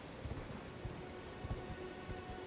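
Horse hooves clip-clop in the Elden Ring video game, irregular dull thuds from a mount moving over ground, quiet under a steady rain-like ambient hiss.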